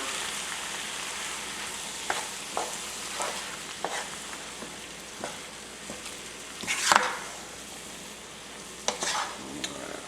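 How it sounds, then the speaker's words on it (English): About two pounds of tomatoes sizzling in a pan for spicy shrimp ranchero, a steady low hiss with scattered stirring scrapes and knocks, close but quiet, with one louder burst of spoon-on-pan noise. "And to this we are going to add our tomatoes, and I've got roughly 2 pounds here. I'm going to give this a stir."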